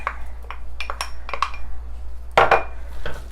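A utensil stirs peas into pasta carbonara in a pan, making light metallic clinks and scrapes in an irregular rhythm, with one louder clatter partway through, close and fairly quiet, with no talking.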